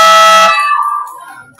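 A loud electronic buzzer sounds at the end of a basketball league game, a sustained harsh blare lasting about half a second before fading into crowd noise and a commentator's voice.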